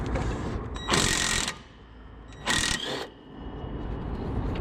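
A socket ratchet working a nut on a Mini driveshaft during a driveshaft boot replacement gives two short, loud bursts of ratcheting clicks, with quieter mechanical handling between them.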